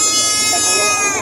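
A goat bleats once, loud and near, in a single sustained nasal cry at a livestock market in Padre Garcia, Batangas.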